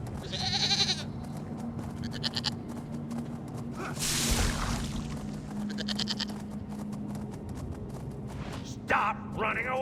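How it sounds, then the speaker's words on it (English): Goats bleat in the video game Elder Scrolls Online, a few short nasal cries near the start and middle, with a swoosh and background game ambience and a voice speaking briefly. "A weak goat, but still good for the slaughter."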